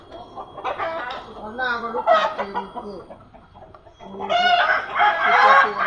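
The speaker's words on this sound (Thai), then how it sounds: "ไก่เตี้ยเยอะมากเลยอ่ะ" Bantam chickens cluck and crow nearby in overlapping bursts, with a pause midway before a louder crow and busy clucking resume.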